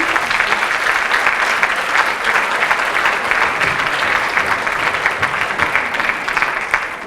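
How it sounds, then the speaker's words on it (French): Audience applause at a conference on gender equality in sport, loud, close and sustained, with many hands clapping in a thick continuous wash that barely fades at the end. "Bravo, vous pouvez applaudir"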